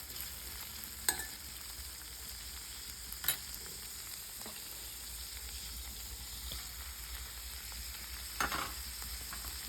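Vegetables such as cauliflower, green peas and potatoes are stirred and fried in a pan for vegetable quinoa pulav, a soft steady sizzle broken by a few spoon clinks, with no one speaking.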